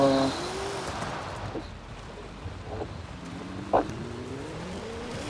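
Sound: car engine revving in Forza Horizon 5 video game

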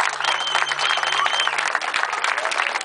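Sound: audience applause

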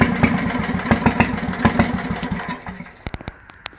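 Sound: Bolens tractor engine starting after sitting 25 years

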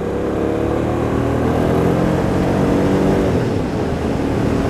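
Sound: motorcycle with aftermarket exhaust

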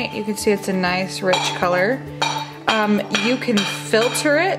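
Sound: child banging pots

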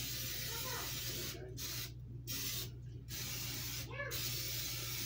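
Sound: cooking spray sprayed into a waffle iron

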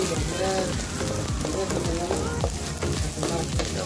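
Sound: shallots and anchovies sizzling while being sautéed

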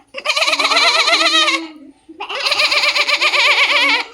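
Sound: voice imitating goat bleat

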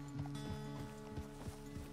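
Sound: horse hooves clip-clopping, from the video game Red Dead Redemption 2

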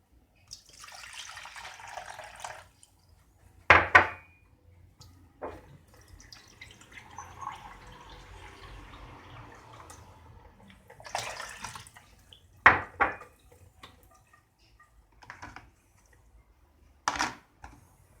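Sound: water poured into Kenwood CM200 filter coffee maker reservoir

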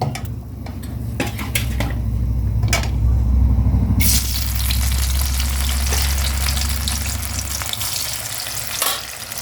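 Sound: brinjal pieces deep frying in oil

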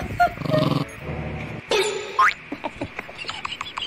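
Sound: dog whimpering and yipping

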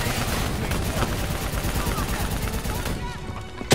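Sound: gunfire from video game Call of Duty Black Ops 3

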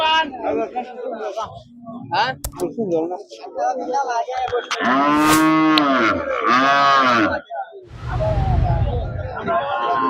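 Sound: cattle mooing at a livestock market

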